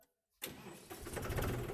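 A tractor engine cranks and catches after a brief silence, then runs with a rough, rising mechanical roar, close and fairly loud, with no talking.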